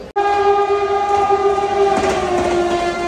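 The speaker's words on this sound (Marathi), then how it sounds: "तर आम्ही ट्रेनमध्ये बसलेलो आहे आता." A Mumbai-Pune local passenger train runs with a loud, sustained horn blast over the rumble of the carriages, heard close from inside and lasting the whole stretch.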